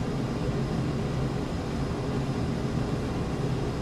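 F-15 jet engines during a hard takeoff in Microsoft Flight Simulator, a dense, steady, loud broadband roar that holds unchanged throughout, with no voices.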